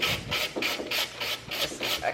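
Sanding or scuffing a stripe on the side of a painted metal cubby shelf, a rhythmic back-and-forth rasping rub of about eight close, steady strokes with no voices.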